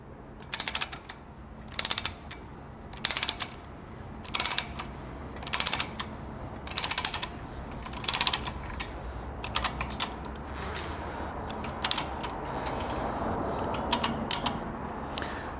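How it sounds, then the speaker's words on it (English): The ratchet on a lorry load binder is worked back and forth to tighten a chain, and each stroke gives a loud, close metallic clatter. About seven evenly spaced bursts come first, then a few softer, sparser clicks. "as you move the ratchet away from you, the bar should slide through your hand, and then hold it tight while you bring the ratchet back towards you."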